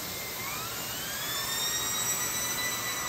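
A Sebo E3 canister vacuum cleaner runs with a high, steady whine and rushing airflow, a constant motor tone that rises slightly in pitch over a few seconds, with no voices.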